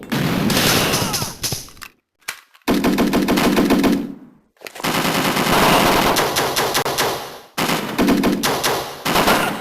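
Sustained loud machine-gun bursts in Call of Duty Modern Warfare 3 on the Nintendo 3DS rattle in long rapid strings, broken by a few short pauses before the firing resumes.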